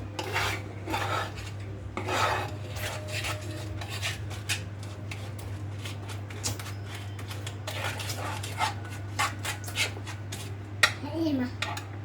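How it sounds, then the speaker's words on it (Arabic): Oreo cake batter is stirred in a bowl with repeated scraping, rubbing strokes of a utensil against the sides, over a steady low hum, with a few faint voices in the background. "هنقلب كل ده مع بعضه كده كويس"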